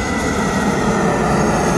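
A Royal Air Maroc jet from Morocco passes close by at Heathrow, producing a loud, constant engine roar throughout, with no voices over it.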